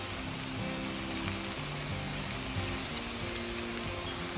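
Sticky rice patties with mung beans frying in a shallow layer of oil in a pan, a steady close crackling sizzle running throughout, with a low hum beneath and no talking.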